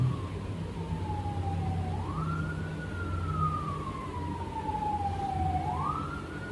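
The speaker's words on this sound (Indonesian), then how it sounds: "Dengar gak kalian sirene?" A wailing emergency vehicle siren outside, sweeping slowly up and down in pitch, steady and moderately loud over a low rumbling background hum with no talking.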